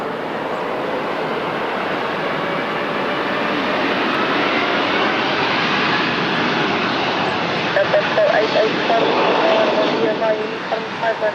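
airBaltic jet engines at Lisbon Airport, a loud steady broadband roar of an aircraft that holds throughout with a slight rise toward the end.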